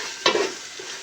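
Bay leaves drop into hot oil already frying with spices for white pulao, giving one sharp, close sizzling burst that quickly settles into a soft, fading hiss, with no talking.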